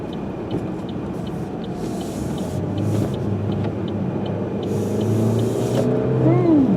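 Four-cylinder car engine running in first gear, a steady low rumble that swells slightly over several seconds, heard close with faint road noise and no talk.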